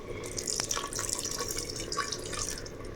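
Hot water poured into a clay pot of cooking chicken, a soft, steady trickle and splash at moderate distance, fairly quiet throughout.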